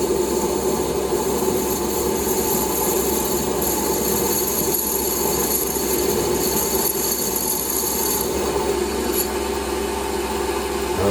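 A parting tool on a Warco WM180 metal lathe cuts off a washer, a steady continuous machining whine with a rubbing, scraping edge, loud and unbroken throughout.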